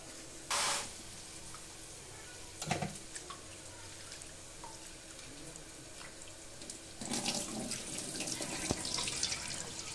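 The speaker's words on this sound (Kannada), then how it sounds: "ಇದನ್ನ ನೀರಲ್ಲಿ ವಾಶ್ ಮಾಡ್ಕೊಳ್ಳೋಣ" Half a kilo of rice being washed in water for masala rice, with faint running and sloshing water and a few sharper splashes, quiet and steady without speech.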